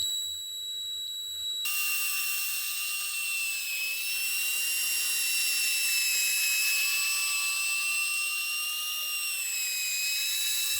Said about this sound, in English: Then we're going to get the drill in